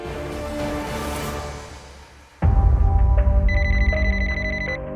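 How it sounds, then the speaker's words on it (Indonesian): A mobile phone rings in a repeating electronic tone pattern, entering midway over a loud low hum and continuing steadily to the end. "telepon seluler Munir berdering"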